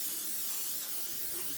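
Cooking spray hissing from a can onto a pan while baking cookies, one steady close burst of spray.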